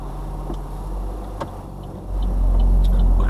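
Left turn signal on a learner's car ticks in a quick, faint, steady rhythm inside the cabin while the engine idles and a low road rumble swells toward the end.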